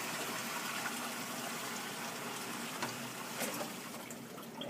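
A bucket of blue-dyed water pours into a large reservoir, a steady broad rushing splash lasting throughout, with a few brief sharper splashes and a slight tapering near the end.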